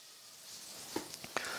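Potato strips fry in a pan with a soft, steady sizzle and a few small clicks and pops, heard close but quiet.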